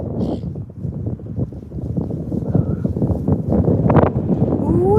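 Strong wind buffets the microphone during a bike ride home outdoors, a steady low roar with gusty rumbling throughout.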